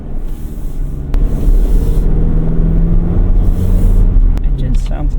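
A 2025 GMC Canyon Elevation midsize pickup accelerating up a stretch of road, heard from inside the cab as a loud low engine drone that rises and holds, with road rumble.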